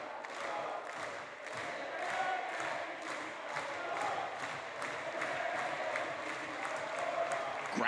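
A wrestling crowd in Newcastle, England applauds and cheers for a home-town wrestler, steady dense clapping with a roar of voices filling the arena at moderate distance.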